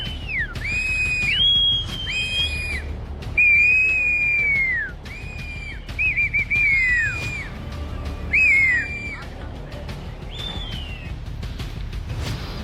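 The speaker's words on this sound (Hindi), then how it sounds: "लोगों को अलर्ट करने के लिए स्थानीय लोग सीटी बजा रहे हैं।" Locals in the snowy mountains of Jammu and Kashmir blow whistles to warn of an avalanche, giving a long series of loud, shrill blasts of varying length over outdoor rumble and background noise.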